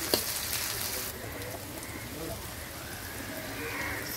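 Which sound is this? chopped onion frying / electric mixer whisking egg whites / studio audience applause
chopped onion frying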